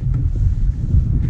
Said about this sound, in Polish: Wiatrzysko strasznie wieje.